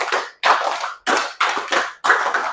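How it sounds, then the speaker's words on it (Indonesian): Children in a classroom clap hands together in five separate loud bursts with short pauses between them, a brisk counted rhythm close by. "Tepuk 5 kali."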